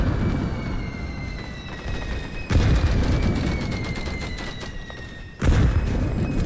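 Video game combat with a grenade, two heavy booming blasts a few seconds apart over a steady bed of rapid gunfire and rattling shots, loud and close; no talking.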